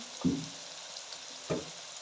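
Boiled masoor lentils hit a hot tadka in the pan, giving two short, separate bursts of sizzling against a quiet background.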